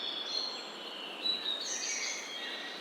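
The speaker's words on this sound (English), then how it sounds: "I don't know if those birds are as loud in my ear as they are in yours" Birds chirp and tweet in Farming Simulator 22 over a soft, steady ambient hiss, with several bright, high calls scattered through the clip.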